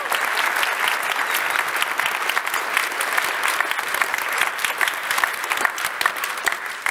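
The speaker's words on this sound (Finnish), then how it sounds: "Annetaan ensin isot aplodit" A large audience at a business event claps loudly and steadily for about seven seconds, dense, even applause filling the room close by without pause.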